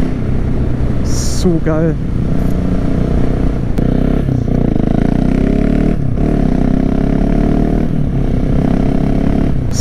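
A supermoto motorcycle engine revs hard while riding, a rising, throaty motor roar sustained under wind rush, close and loud, with a short excited exclamation from the rider.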